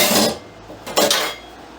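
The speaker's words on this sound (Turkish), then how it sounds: "Ocağımızın altını yaktık köftelerimizi ocağa koymaya başlıyoruz." Hamburger patties go into a pan on a lit stovetop, making two brief, loud, noisy bursts of contact and sizzle about a second apart.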